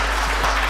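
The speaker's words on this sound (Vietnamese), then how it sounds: "hãy vỗ tay cảm tạ Đức Chúa Trời" Church congregation applause during a Vietnamese Protestant sermon, a brief, dense burst of clapping from many hands at close-to-moderate distance.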